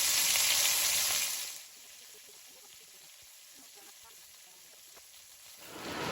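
Guyanese fish cakes frying in hot oil, a loud hiss at the start that drops to a quiet simmer, then swells again at the end, no clear talk.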